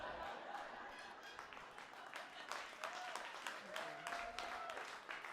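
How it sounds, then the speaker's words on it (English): Steady applause from a live comedy show audience at Tellus 360, continuous clapping filling the whole stretch, with faint laughter mixed in. "That always gets a huge applause."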